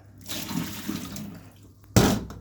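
Water being poured away in a home workshop, a steady splashing rush that swells and then ends in a louder, sudden gush, close by with no talking.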